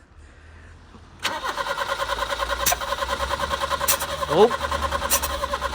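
A BMW E30 that sat for eight years cranks and fires into a steady idle, the engine running loud and close for several seconds with a voice speaking briefly over it.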